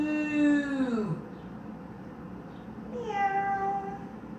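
A person playfully imitates a cat meowing during a yoga class, two drawn-out vocal meows separated by a short pause, fairly close and clear over a quiet room.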